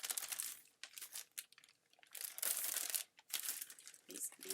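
Small plastic seed packets and bags are handled up close, giving bursts of crinkling and rustling that stop and start, with a few quiet pauses between.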